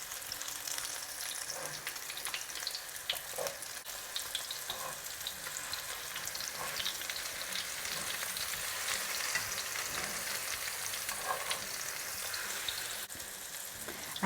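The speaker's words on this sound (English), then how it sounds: "So you cook this on quite high heat because it's just eggs," Eggs frying over high heat in a pan for a paneer egg jalfrezi, giving a steady, dense sizzle with faint pops and crackles throughout, no voices.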